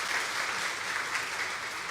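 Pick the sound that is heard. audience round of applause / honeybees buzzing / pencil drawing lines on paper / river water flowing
audience round of applause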